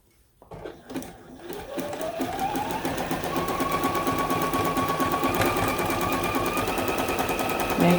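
A sewing machine appliques a fabric shape onto a Christmas tree quilt top, its needle starting up and settling into a fast, steady close chatter, with a faint rising whine as it gets going.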